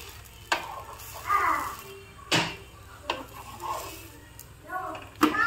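A dosa cooks on a covered pan, with faint sizzling broken by several sharp clanks of the lid or utensils against the pan at irregular intervals.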